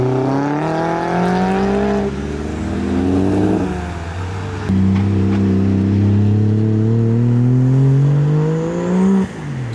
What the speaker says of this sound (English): We got a Mark 2 MX-5 that's heavily modified arriving.